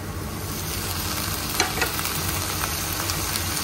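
Fiddlehead ferns tossed into potatoes frying in oil and water, giving a steady close sizzle with a few stirring scrapes and clinks, no voices.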